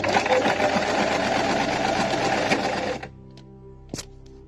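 A sewing machine fitted with a buttonhole foot stitches a buttonhole in a fast, steady whirring run for about three seconds, then stops, leaving quiet room tone and a single small click.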